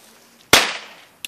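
A Vico Xingping firecracker goes off with one sharp, loud bang that rings out and decays over half a second, followed by a small distant pop.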